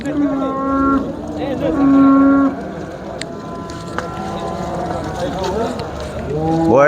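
At a crowded Bukhara cattle market, cows give several long, loud moos, some overlapping and drawn out. People talk around them.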